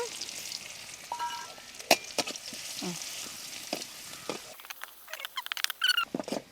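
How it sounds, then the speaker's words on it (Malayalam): Crushed garlic frying in oil, a light crackling sizzle with scattered pops and stirring clicks, fairly quiet and close. "ഈ എണ്ണയിൽ തന്നെ നമുക്ക് കുറച്ച് വെളുത്തുള്ളി പൊരിച്ചെടുക്കാം"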